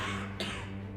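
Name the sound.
cough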